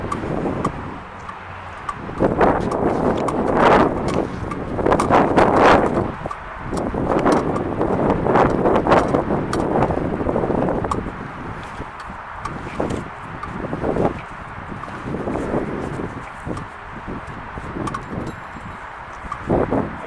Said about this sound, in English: sorry if it's a little windy here